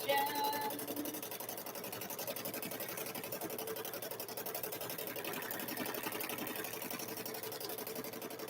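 A sewing machine runs continuously while stitching a quilted Grinch handbag, with a fast, even mechanical whir that stays at a steady level from start to finish.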